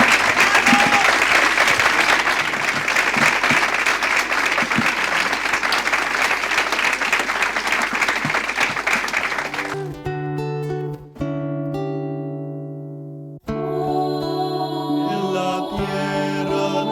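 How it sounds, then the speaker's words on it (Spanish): Audience applause for three panelists at a Catholic talk event, a loud, dense wash of clapping for about ten seconds that cuts off abruptly, followed by sustained musical tones. "Un aplauso a nuestros tres panelistas."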